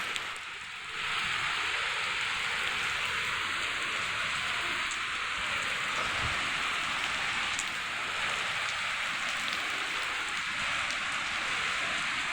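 Heavy rain pouring at night near a college in Gopalapuram during a thunderstorm, a constant dense wash of drops on surfaces, loud and even, with a faint low rumble near the middle.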